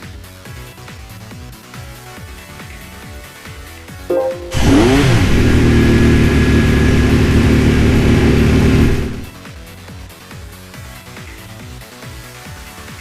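A Nissan R34 touring car in Gran Turismo 5 revs hard for about five seconds, a loud sustained engine roar that rises in pitch and then cuts off, set against quieter background music.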